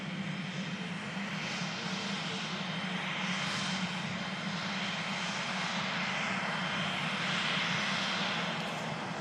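A Pilatus PC-24 business jet passes overhead, producing a steady, broad engine roar that swells gently and holds throughout, fairly distant, with no voices.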